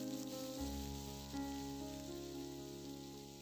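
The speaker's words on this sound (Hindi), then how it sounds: "इसको हाई फ्लेम पे भूनेंगे जब तक गोल्डन कलर नहीं आ जाता।" A large chopped onion sizzles steadily in hot oil over a high flame for an egg karahi, a continuous close frying hiss with no voices.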